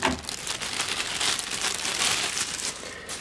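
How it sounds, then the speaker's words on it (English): Plastic wrap rustles and crackles continuously as a Jensen cassette recorder is unboxed, close and busy with irregular crisp bursts throughout and no voices. "Plastic wrap."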